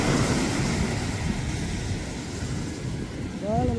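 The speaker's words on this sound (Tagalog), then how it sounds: "Lalaki ng alon." Big sea waves surge and wash around a small boat on the open water, a steady churning roar with wind buffeting the microphone throughout and a low motor drone underneath.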